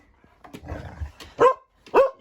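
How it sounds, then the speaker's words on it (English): A dog indoors gives a few low grumbles and whines, then two loud, sharp barks about half a second apart near the end. "Shush, don't stop barking."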